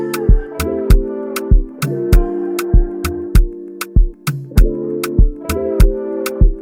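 Chopped vocal sample from Splice set into a beat, with short pitched vocal slices stuttering in rhythm. Punchy drum hits land at a steady tempo, loud and upfront with no talking.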